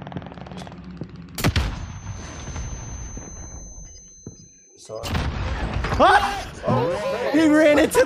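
A grenade in Call of Duty: Warzone goes off in one sharp, loud blast early on. Scattered game noise follows, then excited shouting from players.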